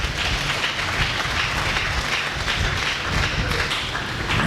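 A church congregation claps and cheers in praise, a dense, steady roar of applause filling the room throughout.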